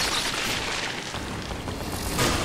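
Dark Sphere explosion in Awakened Collector Adept gameplay, a dense, loud rumbling burst that fills the whole stretch without letup, swelling again near the end, with no talk over it.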